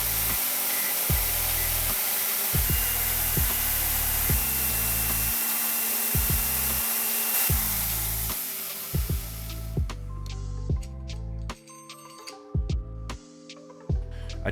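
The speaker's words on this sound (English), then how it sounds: "I'll use the Dremel to remove the leftover material in the corners" Dremel rotary tool fitted with tungsten carbide tips grinding leftover metal from the corners of a steel gladius dagger blade, a close, steady high whine with rhythmic low knocks, shifting to choppier bursts near the end.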